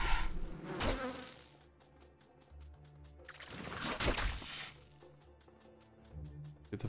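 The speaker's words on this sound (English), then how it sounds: "Oh yeah, we got to fight bees now." Buzzing swarm of bees in Diablo 2, a continuous droning hum that swells and fades, with a few sharp impact sounds from combat and game noise mixed in.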